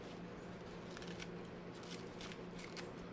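Kitchen scissors snip through fresh green onions in a quick series of light, crisp cuts.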